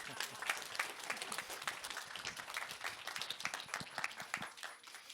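An audience at a Sunday talk on fungal ecology and mushroom identification claps for a mycologist. The sharp, dense hand claps sound fairly distant and soft and thin out toward the end.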